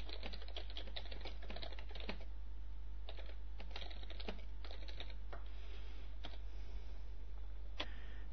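Keys clatter steadily on a computer keyboard as text is typed, in quick irregular runs of taps with brief pauses, close and fairly quiet over a low steady hum.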